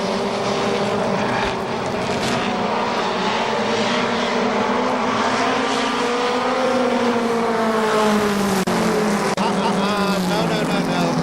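Race cars at KilKare Speedway roar together in a loud, sustained engine drone as the field comes up to the green flag, pitch rising and falling as they pass.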